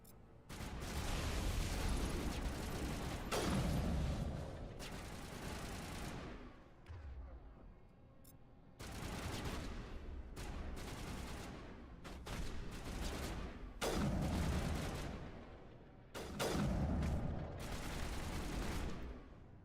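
Gunfire in Mass Effect 1 sounds as several extended volleys of rapid shots separated by brief lulls, with sharp individual cracks at the edges of each burst and faint voices in places.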